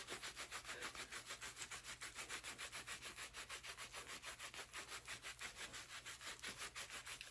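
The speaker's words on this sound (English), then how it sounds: "Sometimes I put my fingernails in the rag and kind of just scrub really hard." Hard, steady back-and-forth scrubbing of a rag over a photo transfer on wood, rapid rhythmic rubbing strokes, close and continuous with no talking.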